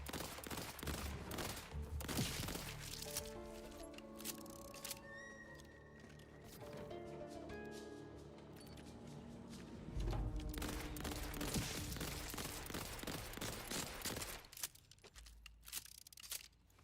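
Dense video game gunfire crackles in rapid bursts, near and loud, with overlapping impacts and sustained automatic fire throughout.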